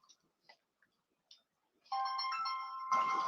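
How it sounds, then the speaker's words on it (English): A mobile phone ringtone starts after a few faint clicks, a sustained electronic melody that jumps up in pitch and grows louder near the end. "Whose phone is that?"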